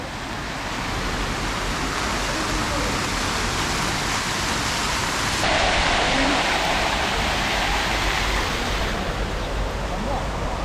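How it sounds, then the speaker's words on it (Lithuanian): Water rushes in a loud, continuous roar with an even, noisy wash throughout, with no speech. "Oi, kaip bėga vanduo."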